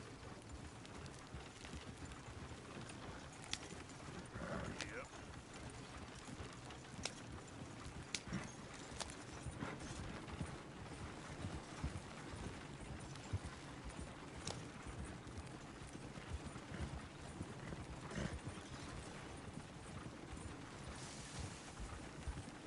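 A horse is ridden through trees in a video game, its hooves clip-clopping at a steady walking rhythm. The footfalls carry on throughout at moderate level over a soft, rain-like background wash.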